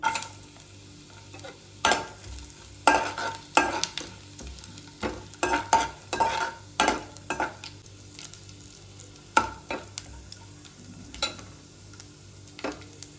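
Coconut pieces and lentils frying in ghee for palm-jaggery pongal, a low steady sizzle punctuated by repeated loud scraping and clattering strokes of a spoon against the pan, no talking.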